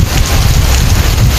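Heavy rain drums steadily on a delivery rider's motorcycle and plastic-wrapped parcel during a ride in Dasmariñas, Cavite, with wind buffeting the microphone in a continuous, loud wash and no pauses.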